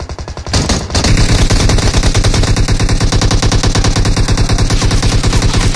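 Loud, sustained automatic gunfire in PUBG Mobile, a rapid continuous stream of shots after a brief opening burst, close and dominant throughout with no talking.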